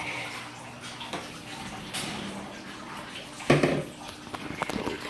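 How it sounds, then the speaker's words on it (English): Water gushes steadily out of a small pulled standpipe, a continuous hissing splash that swells with a sudden louder burst partway through before settling into an uneven rush. "Let the water come out."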